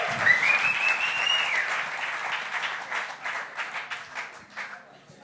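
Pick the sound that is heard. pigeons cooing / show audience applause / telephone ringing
show audience applause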